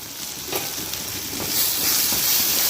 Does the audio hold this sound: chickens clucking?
no